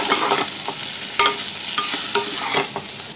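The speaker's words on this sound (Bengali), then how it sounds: "এর মধ্যে আমি দিয়ে দেবো এই যে চিংড়িগুলোকে, একটু ভালোভাবে মিশিয়ে নিই" Prawns stirred into a fried coconut spice paste in a hot pan: a steady close sizzle with several sharp spoon scrapes and knocks spread through, no voices.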